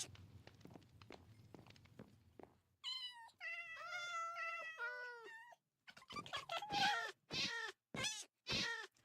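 In a video game, a cat meows several times, first in a run of plaintive mid-pitched mews, then in louder, strained caterwauling cries, after a stretch of soft footstep-like taps at the start.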